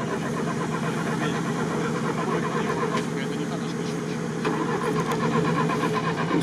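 A VAZ-2101 car's starter cranks its engine in a rapid, continuous chugging rhythm off-road, loud and close, with people talking over it.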